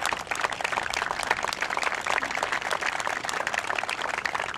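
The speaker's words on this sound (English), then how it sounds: "I want to give a round of applause to him" A crowd at a government announcement about funding a new university baseball stadium applauds in a steady, dense roar of many clapping hands that holds at an even level throughout.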